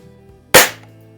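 A Winchester 435 (Diana 35) air rifle fires once, a single sharp, loud crack with a quick decay as the pellet strikes the target, over a faint low background hum.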